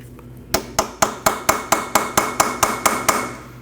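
A hammer taps a punch into the split steering knuckle of a 2003–2008 Subaru Forester, a dozen sharp metallic strikes at a quick, even pace, close and loud with no talking.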